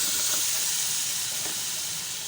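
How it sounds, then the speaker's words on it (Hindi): Potatoes go into sizzling masala in a pan, giving a steady, loud frying hiss that fills the short stretch with no talking over it. "अब मैं इसमें डाल दूँगी आलू"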